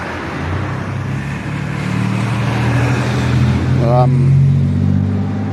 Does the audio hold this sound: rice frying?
no